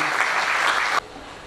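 Audience applause at an NTPC gathering in Anta fills the room as a dense, loud wash of many hands, then cuts off abruptly after about a second, leaving quiet room tone.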